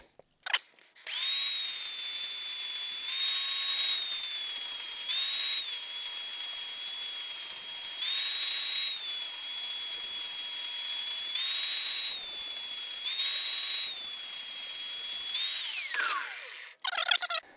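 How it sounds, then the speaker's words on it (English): An angle grinder faces off metal on a van step in one long, loud, high whine with small dips in pitch as it bears on the work, then spins down at the end. Brief clunks of handling come before and after. "I might see if I can just face that off a little bit with the grinder"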